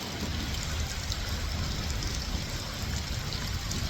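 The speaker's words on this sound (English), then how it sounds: "It's raining, it's wet" Rain falls on a parking lot as an even, continuous hiss of drops with no pauses and no talking.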